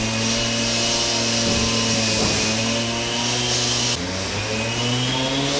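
Loud, continuous mechanical droning with a steady hum and scraping, like construction machinery running nearby without pause.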